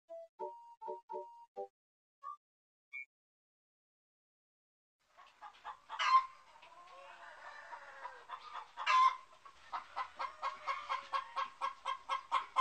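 A hen clucks in a rural village setting, a few short tonal blips first, then a run of close, repeated clucks building into a steady rhythmic series with a couple of louder squawks.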